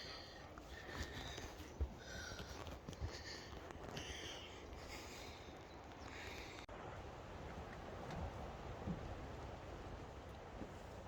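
Rain falls steadily at a community camp, a faint, even hiss of droplets on a tarp with a few soft taps and a brief shuffle.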